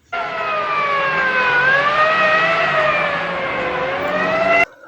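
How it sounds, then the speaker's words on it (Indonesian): An ambulance siren wails loudly and steadily as the vehicle passes by, its pitch sliding down and back up with a Doppler-like sweep, clear and alone before cutting off abruptly. "Dan tidak berapa lama, mobil ambulans Pak Soleh lewat juga."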